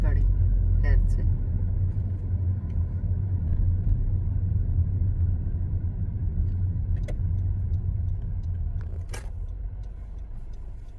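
A woman drives a car through town streets, heard from inside as a steady, loud low engine and road rumble with a few faint clinks and a voice now and then.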